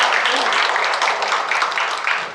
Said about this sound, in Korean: 행복학생들이 큰 박수 주시기 바랍니다.